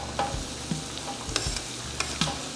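Red pepper, celery and onions with mushrooms sweat gently in a pan for chicken cacciatore, giving a soft, even sizzle with a few light stirring taps and scrapes close by, no voices.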